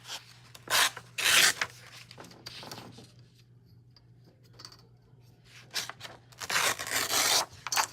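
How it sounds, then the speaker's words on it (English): Paper edges trimmed for a book signature, heard as rough rasping cuts in bursts, loud and close, separated by quieter gaps. "let's also trim the edges"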